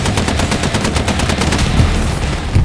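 Sustained machine gun fire from a machine gunner in the World War II shooter game Hell Let Loose, a loud, rapid stream of shots with steady rhythm throughout, dense and close with no talking.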